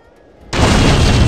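A firework goes off in the Lego Ninjago Shadow of Ronin video game, a sudden loud booming blast that cuts in after near-silence and sustains as a roaring, crackling wash.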